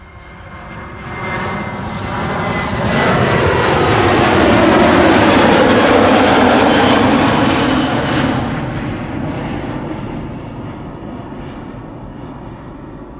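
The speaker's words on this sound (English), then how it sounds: "This is KLM flight 1293 to Billund, a 737-700." A KLM Boeing 737-700 jet departs Amsterdam Schiphol, its engine roar building from a distance, peaking loud mid-clip, then slowly fading as the aircraft climbs away.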